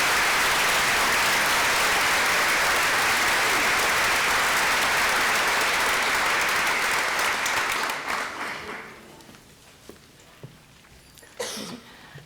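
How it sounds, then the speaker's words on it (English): A large audience at a college academic and leadership awards convocation applauds in a loud, sustained roar of clapping that fades away after about eight seconds into scattered claps and room noise. "Please join me in a round of applause for all the leadership students."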